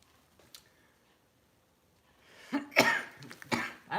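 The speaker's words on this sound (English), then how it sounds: "I don't know why I'm coughing." Near-silence gives way to a short burst of several harsh coughs close to the mic, with a faint click early on.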